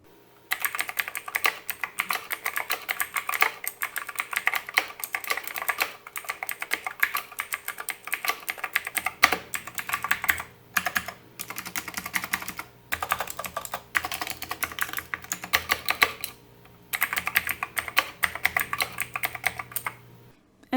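Rapid clacky typing on a mechanical keyboard fitted with a foam mod but not lubed, close and crisp, coming in bursts with short pauses between runs of keystrokes.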